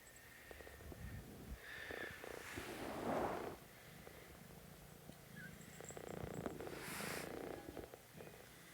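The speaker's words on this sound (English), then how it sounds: "Oh, that's a big purr you have, Rue." A cat purrs steadily and closely, a soft continuous rumbling with faint rustling and small noises around it.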